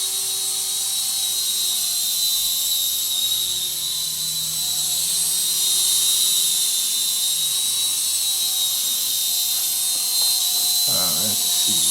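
A Syma S6 mini RC helicopter flies backwards, its tiny rotor and motor giving a steady, high, buzzing whine that holds constant throughout, with a brief clatter of handling noise near the end.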